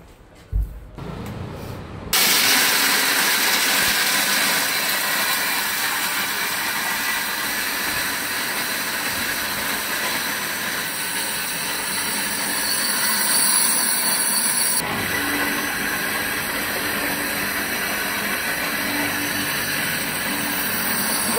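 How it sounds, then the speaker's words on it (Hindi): A heavy-duty 2-in-1 mixer grinder grinds dried dates and dried coconut together, a loud, steady whirring roar starting abruptly after a brief quiet moment and running continuously without talk. "खारीक खोबरं दोघं एकत्र या मिक्सर मध्ये दळतोय."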